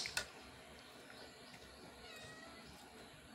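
A pet cat named Cutie meows faintly in a quiet room, a short brief cry near the start followed by soft low background noise.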